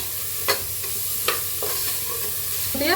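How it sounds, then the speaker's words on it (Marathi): Sprouted moth beans are stirred in hot oil with turmeric, giving a steady close sizzle broken by a few sharp spoon scrapes and clinks against the pan. "त्याच्यात मोड आलेली मटकी घालूया, त्याला हलवून घेऊया 1 मिनिट बरं।"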